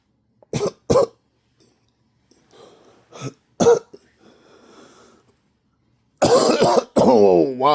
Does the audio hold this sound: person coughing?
yes